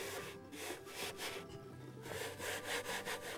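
Lettuce seed is rubbed by hand over a cleaning screen, producing a rhythmic series of dry scratchy rasping strokes, close and fairly soft, with no voices.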